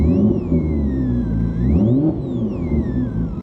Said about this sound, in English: the higher I rev the engine, you hear like the whining sort of through the speakers